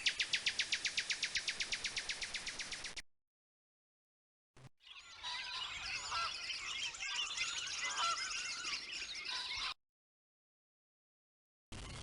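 A nightingale sings with a double voice, two notes at once, in a rapid rhythmic trill followed after a pause by a longer, jumbled, warbling phrase, clear and close with silent gaps between.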